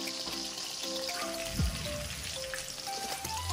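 Chicken 65 deep frying in hot oil gives a steady, soft crackling and bubbling sizzle, with faint background tones and a brief low thump partway through.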